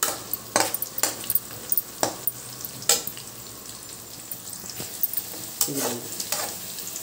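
Whole cardamom, cloves and a piece of cinnamon fry in a pan for vegetable fried rice, with a soft sizzle behind sharp, scattered clinks and scrapes of a spoon against the pan.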